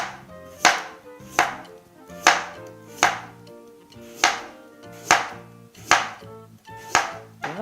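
Carrots chopped with a knife on a cutting board, about a dozen sharp, evenly spaced thuds over a light background tone, close and clear with no talk.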